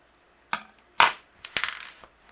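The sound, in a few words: trimming corners of a paper card tag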